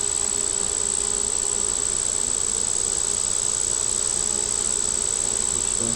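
Agitated honey bees at an opened hive keep up a loud, unbroken buzzing drone close by, steady from start to finish with no talking.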